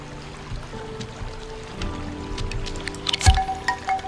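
A canoe paddles on a river in the video game Dordogne, with soft splashes, squishy water strokes and drips, close and intermittent, and a louder splash near the end.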